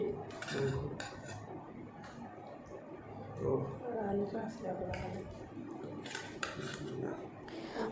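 Cutlery scrapes and clinks against dishes as rice is eaten during an Eid meal, with scattered sharp taps near the mic under ongoing conversation.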